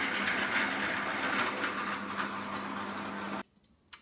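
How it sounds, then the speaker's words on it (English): A benchtop drill press bores a hole for a tea light candle, a steady loud motor whir with grinding that runs alone before cutting off abruptly, leaving near silence with a faint knock at the end. "that's the benefit of using a drill press"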